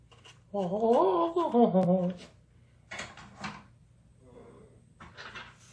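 The tiny doors of an Erie Lackawanna toy model train car, made in Hong Kong, are opened, giving a few light plastic clicks after a short burst of voice-like sound, with quiet gaps in between.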